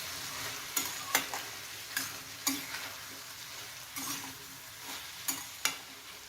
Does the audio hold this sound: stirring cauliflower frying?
yes